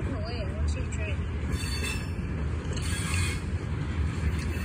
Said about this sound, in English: this train is super short, like always.